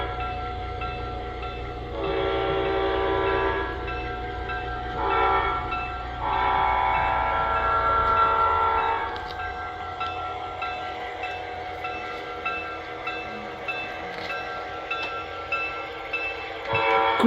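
A model train's horn blares in several long blasts, loud and close, over the rumble of the passing model train that continues after the horn stops.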